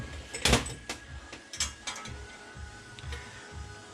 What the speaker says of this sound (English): I put tension on this one, it needs to be tightened up.